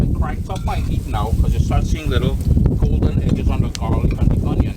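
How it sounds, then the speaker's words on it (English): Outdoor wind rumbles steadily against the microphone while breadfruit and curry pork oil down cooks over raised heat, a low buffeting roar running beneath continuous talking throughout. "I do apologize for the wind."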